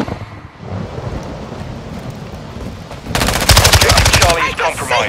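Call of Duty: Modern Warfare II Domination match on the Lighthouse map, where rumbling battle noise gives way to a loud, close burst of rapid automatic gunfire in the final two seconds.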